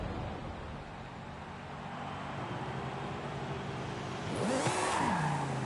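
A car engine in the Forza Horizon 5 racing game drones steadily, then revs up with a brief tire squeal near the end, with no talk over it.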